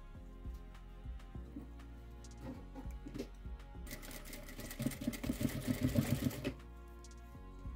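A sewing machine stitches a zipper in short intermittent bursts, then settles into a louder, rapid run of stitching in the middle before stopping, close and alone.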